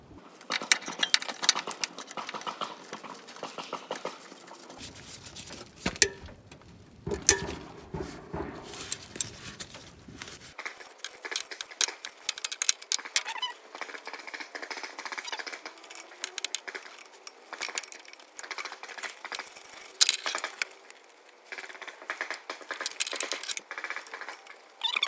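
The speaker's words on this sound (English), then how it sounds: "I've stuck a 12 millimeter deep socket onto that bolt, and I'm gonna get my ratchet down there and hook up" A ratchet on a 12 mm deep socket turns a bolt on the alternator of a 2001-2005 Honda Civic, giving rapid, steady metallic clicking that runs continuously at close range with brief pauses.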